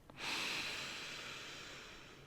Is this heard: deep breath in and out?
yes